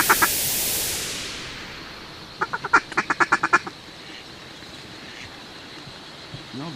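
Mallard ducks in a North Dakota corn field quacking in a rapid descending series of loud, close quacks after a whooshing rush at the start, then quieter background.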